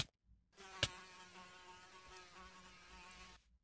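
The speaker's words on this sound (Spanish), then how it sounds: "¿Una mosca?" A housefly buzzes in the video game Minecraft, a steady faint drone with a soft tonal hum, preceded by a brief sharp click and ending abruptly after a few seconds.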